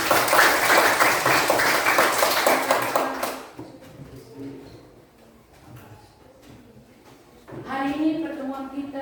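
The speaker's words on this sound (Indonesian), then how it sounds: "Terima kasih banyak, tepuk tangan." Participants clap at the close of an online teachers' coaching meeting. Dense, steady applause fills the first few seconds, then quiet, then a voice speaks.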